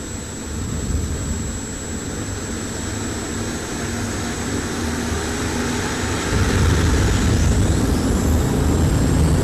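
Pulling engines roar continuously at a 1993 farm machinery show tractor pull finals, a loud sustained drone with dense low rumble that swells louder near the end, no talk heard.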